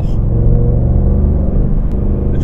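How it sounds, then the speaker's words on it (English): A 2019 Ford Mustang Bullitt V8 rumbles steadily up close, its deep engine and exhaust note holding a constant low, loud drone with no talking over it. "Mustang has a very distinct sound compared to pretty much any other car"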